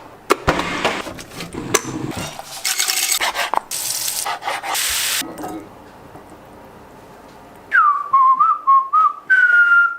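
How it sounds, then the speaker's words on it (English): Rubbing and clattering kitchen noises give way to a person whistling a short tune in clear, sliding phrases near the end. "that perfectly executed whistle signifies that dinner is ready"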